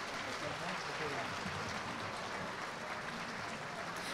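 A concert crowd gives another round of applause for guests who brought their dogs, a Cairn Terrier and a Greater Swiss Mountain Dog. The clapping is dense and even and runs from start to end with no pause.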